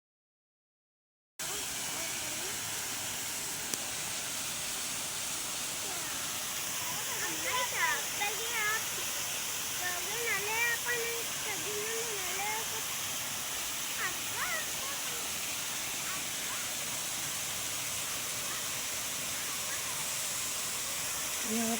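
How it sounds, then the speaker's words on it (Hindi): A zoo waterfall pours steadily as a broad, even rush of water that stays loud and unbroken from start to finish, with faint distant voices and bird-like chirps rising briefly above it. "यहाँ पे मैंने खामोशी से वाटरफॉल की वीडियो बनाई"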